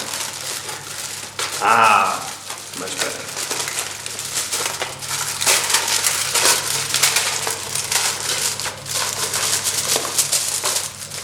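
Paper torn and crumpled by hand while making a toy telescope, giving a sharp crinkly rip near the start and then steady papery rustling and crackling close by, with a brief spoken remark over it.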